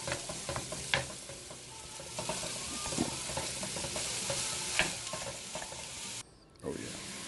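Ground beef frying in a pan over a medium flame while a wooden spoon breaks it up, giving a steady close sizzle with repeated scraping and tapping strokes and a brief drop in the middle.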